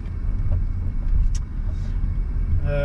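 2006 Citroën C4 1.6 16v petrol car on the road, heard as a continuous low rumble of engine and road noise, steady and moderately loud with faint higher whines.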